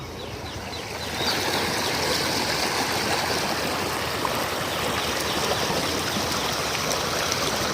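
Water from fields runs steadily in a stream into a river, a constant close rushing flow that swells slightly after the first second and continues without pause.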